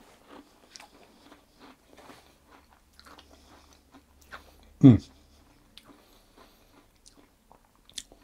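Ginger iced shortbread gets a single loud, close crunchy bite, a sharp burst followed by a few faint chewing sounds in a quiet room.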